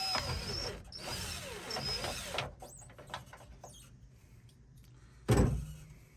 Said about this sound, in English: I'm just drilling a hole in the middle for the cable to go through.